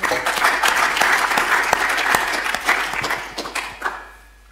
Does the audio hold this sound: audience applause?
yes